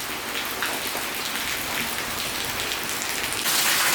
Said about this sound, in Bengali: খুব জোরে বৃষ্টি আসছে।